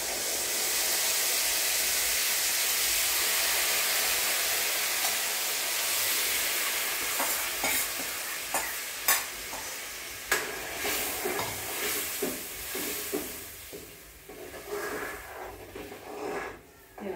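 A mung dal mixture tipped into hot tempering gives a strong, close sizzle and hiss that calms into uneven bursts of spattering and stirring scrapes.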